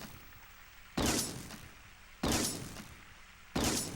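Rifle gunfire in the video game Dead Bits: three loud, sharp single shots spaced over a second apart, each followed by a fading echo tail against quiet room tone.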